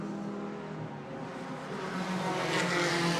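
Race cars on the final lap of a QRDC club race, their engines droning and rising in pitch as they approach and pass, a steady loud roar with no talk.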